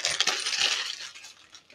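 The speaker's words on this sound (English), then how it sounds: "I'm just going to get all those four of those screws out." Small screws from a tabletop TV stand drop and clatter onto a hard surface, a quick burst of bright metallic tinkles close by that settles within about a second, with no talking.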